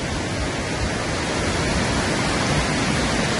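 Waterfalls in Skagway, Alaska pour down in a steady, dense rush of broadband roar that holds evenly from start to finish.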